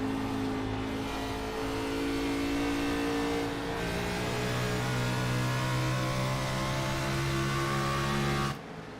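Sim race cars circle Rockingham in an Outlaws sim racing video game, several engines droning and whining at steady high revs, layered tones shifting as cars pass, before cutting off abruptly at the end.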